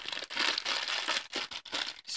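A plastic packet holding cheap Chinese BYZ S366 earphones, an Apple EarPods copy, is opened close by: loud crinkling rustles in several bursts broken by short pauses.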